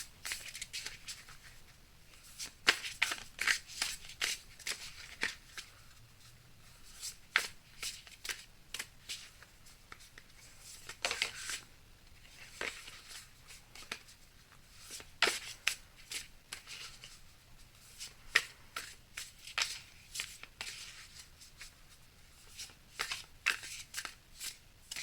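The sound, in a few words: shuffling and cutting Amenti Oracle cards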